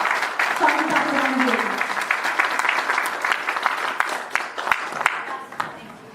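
Steady audience applause fills the stretch, with a voice speaking over the clapping near the start before it gradually thins out.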